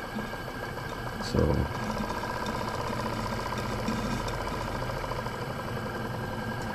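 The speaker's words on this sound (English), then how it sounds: "This is a pretty strong little engine. It is double-acting twin-cylinder." A double-acting twin-cylinder model steam engine runs in a live steam plant test, a steady rapid mechanical chuffing and vibration throughout, with a brief voice over it.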